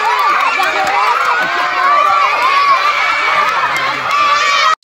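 A crowd at a live event shouts and cheers loudly and continuously. Excited voices overlap in a dense, close roar.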